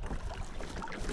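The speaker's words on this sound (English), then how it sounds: "we're sailing now, boys" Hobie sailing kayak gliding through water under sail at about five miles an hour, a soft steady rush of water along the hull with light wind buffeting the microphone.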